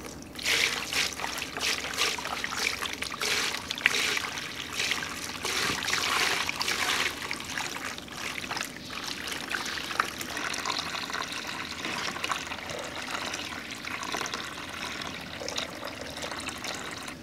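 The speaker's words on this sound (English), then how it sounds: "I'm going to chance it and just try to pour it off and see what remains in the bottom of the bucket" Water pouring off settled clay made from garden soil in a bucket, a steady close trickle and splash running continuously with no talking.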